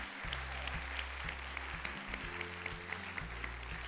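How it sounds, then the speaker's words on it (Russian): A studio audience applauding a musician as he arrives on a family TV show, dense steady clapping with music playing underneath throughout. "Итак, аплодисменты,"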